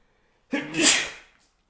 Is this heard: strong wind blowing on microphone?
no